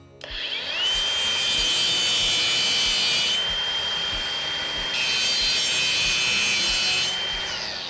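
A Ridgid R86047B cordless angle grinder with a cutting wheel slices through material. Its loud, steady, high-pitched whine runs close up in two long passes, with a short dip near the middle and a fade at the end. No one speaks.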